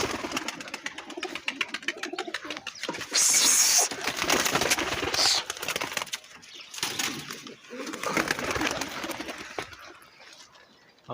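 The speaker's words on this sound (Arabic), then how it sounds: "طلع الطيور." Homing pigeons released from a rooftop loft take off and fly, with bursts of flapping wings and scattered coos over a steady outdoor background.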